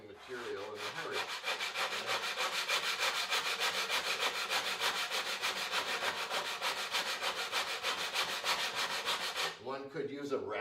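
A 60 grit sandpaper belt is worked back and forth by hand across the flat wooden body of an old parlor guitar, giving close, even, rhythmic rasping strokes for about ten seconds before stopping.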